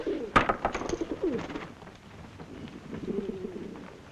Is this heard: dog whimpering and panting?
no